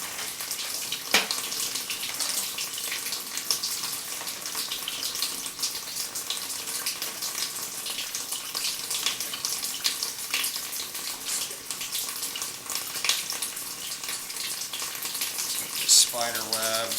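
Standing water sloshes inside a buried residential sewer pipe as an inspection camera pushes through it, giving a continuous, steady hissing wash of water with faint scraping and occasional knocks close by, no voices.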